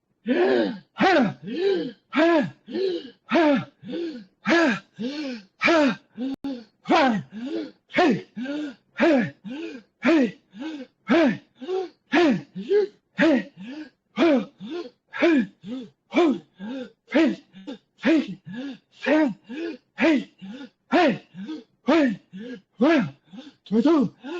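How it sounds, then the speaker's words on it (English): Deep shamanic breathing exercise: steady, forceful rhythmic breaths in and out, dozens of them in quick even succession, loud and close with no talk. "So we're doing all three with this shamanic breathing."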